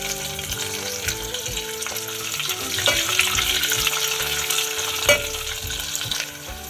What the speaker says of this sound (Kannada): ಈರುಳ್ಳಿ ಹಾಕ್ತಾ ಇದ್ದೀನಿ. ಕರಿಬೇವು ಹಾಕ್ತಾ ಇದ್ದೀನಿ.